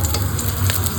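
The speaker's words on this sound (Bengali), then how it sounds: "এখন এগুলো তেলে আস্তে আস্তে করে ভাজা করব।" Pieces of catla fish fry in oil with a steady, crackling sizzle, a short close burst of spitting oil and no talk.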